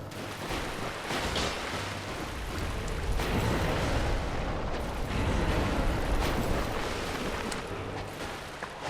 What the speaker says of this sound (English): Alright, here comes the explosion move.